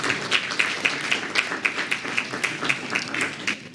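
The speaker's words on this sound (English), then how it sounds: "Applause." Audience applause at the JoyNews Impact Makers Awards ceremony in Ghana, a steady run of crisp, evenly spaced claps over a broad wash of clapping from the crowd, close and moderately loud.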